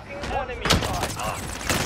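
Gunfire in a multiplayer shooter, a few sharp shots cracking close by in quick succession among muffled game noise, with players talking under and between the shots.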